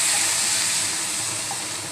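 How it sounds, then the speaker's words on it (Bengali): Water poured into a pan of fried rice and peas for chicken biryani, a steady close hissing, splashing pour that fades slightly over two seconds, with no voices. "আমি এর ভিতরে পরিমাণ মতো পানি ঢেলে দিচ্ছি।"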